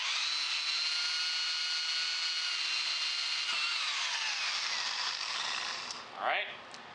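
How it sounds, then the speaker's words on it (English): An electric drill whirs steadily while boring holes in wood for a truck flagpole mount, a sustained near motor whine that holds for several seconds, then winds down and fades, with a brief squeak at the end. "So I got the electric drill."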